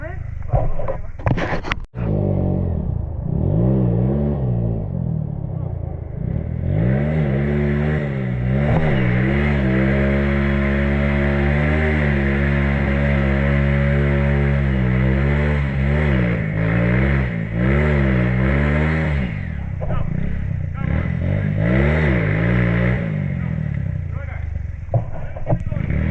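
Off-road vehicle engine revving hard and holding high throttle while crawling through a rain-soaked muddy cave trail, a loud steady drone with surging rises, with voices shouting encouragement over it.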